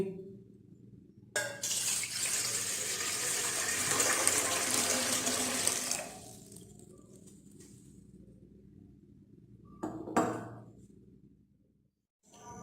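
Water, 1.5 litres, pours steadily into a container for several seconds, then stops, followed by a brief second splash and quiet room tone.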